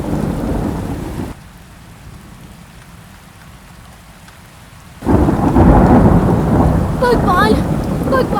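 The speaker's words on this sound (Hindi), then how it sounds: "भगवान, अचानक से बारिश कैसे शुरू हुई?" A cartoon thunderstorm: a loud roar of thunder and heavy rain, then a quieter hush for several seconds before the downpour and rumbling surge back at full strength, with no talking.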